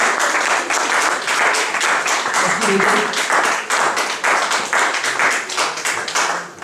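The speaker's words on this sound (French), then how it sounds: "applaudissez pour le Seigneur" Church congregation applauding for the Lord during a sermon, a dense steady wash of clapping from many hands filling the room, with a voice speaking over it.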